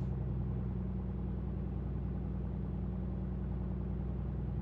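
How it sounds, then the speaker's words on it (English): A light aircraft engine in a flight simulator game, running rough, drones as a steady, unbroken low rumble at an even level, with no talk over it. "If you hear your engine not running smoothly, just don't fly."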